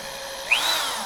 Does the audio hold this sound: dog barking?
no